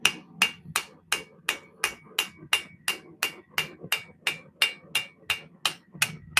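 Steady, evenly spaced blows of a rounding hammer texturing a drop-point metal blade, each strike a crisp bright ring, close and loud with no voices.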